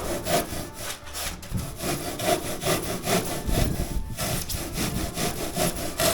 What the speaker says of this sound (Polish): Najpierw tniemy ile się da o pod tym kątem.